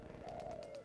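A single pigeon coos inside the video game Jazzpunk, a soft steady warbling call that stays close and clear for its short length, with no talking over it.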